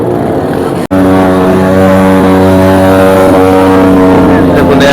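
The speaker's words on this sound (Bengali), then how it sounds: "দেখুন অ্যাপাচি সাউন্ড," Apache motorcycle with an aftermarket exhaust revving loudly and close, a sustained harsh engine drone with a brief cut near the start, among other bikes at a roadside dhaba gathering.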